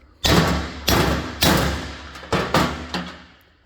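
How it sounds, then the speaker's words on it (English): A hammer strikes a nut threaded onto a wheel stud to drive it out of a Dana 60/70 axle hub and drum, giving five heavy, ringing metallic whacks at uneven intervals. The hits are loud and close, each followed by a short decay. "give it a good couple whacks, and that thing will just drop right out."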